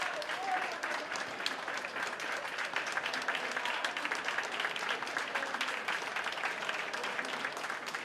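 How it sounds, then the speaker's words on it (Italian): A crowd at a regional beauty pageant final applauds the contestants with dense, steady clapping that holds at an even level throughout. "Eccole qua, bel applauso!"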